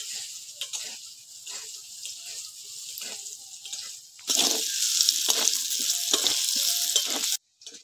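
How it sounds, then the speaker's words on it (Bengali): Potatoes fry with salt and turmeric in a pan over a clay stove, a steady close sizzle that jumps sharply louder midway as the food is stirred, then cuts off abruptly. "লবণ আর হলুদ দিয়ে করি আলুটা ভালো করে ভাজি দিবা।"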